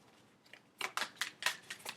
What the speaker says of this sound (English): I shuffle.